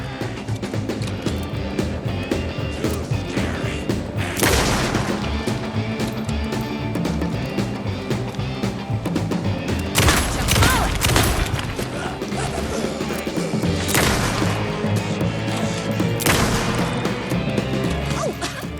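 Heavy gunfire in Alan Wake 2's Night Springs episode: dense bursts of shots and crashing impacts over a busy game soundtrack, with especially loud volleys near the middle and end.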